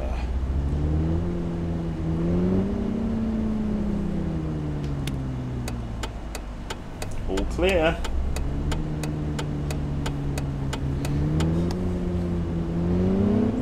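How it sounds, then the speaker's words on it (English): Default car engine sound in the City Car Driving simulator, a New York taxi, revving up and easing down in smooth waves with a ticking indicator in the middle and a brief spoken remark. "I think we have the default city car driving engine sounds, which is fine"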